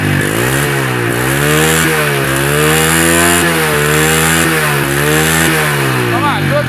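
A TVS Metro 100cc motorcycle engine running loud and close with a steady throbbing idle, its pitch rising and falling gently in repeated swells, and a voice speaking under it.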